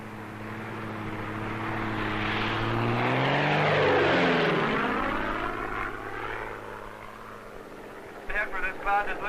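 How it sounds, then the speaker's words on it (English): A weather research plane operating from a Montana base flies near cumulus clouds on a warm August afternoon, its propeller engine drone swelling as it passes close, then fading, with narration over it. "This plane, operating from a weather research base in Montana, is about to perform an experiment on a cloud."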